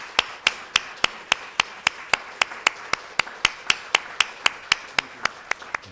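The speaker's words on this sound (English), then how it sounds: "And one more round of applause" Applause at a memorial lecture comes as crisp, evenly spaced claps at a steady brisk tempo, sharp and close, sounding like a single pair of hands keeping a regular beat.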